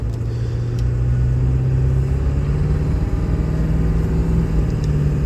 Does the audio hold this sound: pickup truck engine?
yes